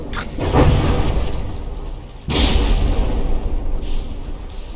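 Battleships in the naval combat game From the Depths trade gunfire, with heavy booming cannon blasts and explosions landing over a rumbling background, two strong bursts standing out, loud and close.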